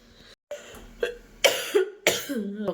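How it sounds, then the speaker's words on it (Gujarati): Several sharp, close coughs in quick bursts, separated by short pauses, with a throaty rasp trailing after some of them. "ઉધરસ બહુ જ આવે છે"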